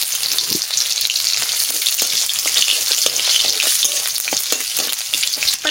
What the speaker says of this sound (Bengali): আর তার ভিতরে আমি শাকটা ভাজতে লাগি।